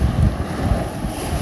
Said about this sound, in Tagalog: Kaso maalon, mahangin kasi.